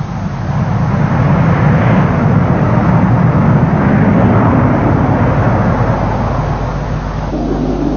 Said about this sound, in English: Even carrying its maximum weapon load, the aircraft is still able to take off in a very short distance.